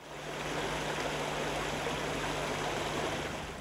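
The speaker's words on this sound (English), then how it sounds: "the rushing water" Water rushes steadily over rocks in a stream near an old mill site and pond, a dense, continuous close-up roar with no pauses.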